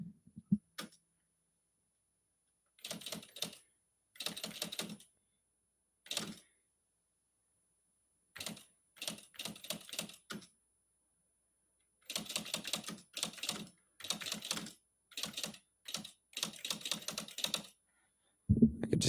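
Fingers tap on a typewriter-style keyboard built to mimic the old typewriter sound, making close, crisp bursts of rapid clacking keystrokes separated by short silent pauses.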